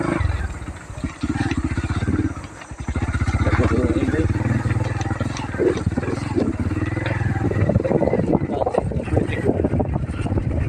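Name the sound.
motorcycle (motor na kalabaw) riding on slippery road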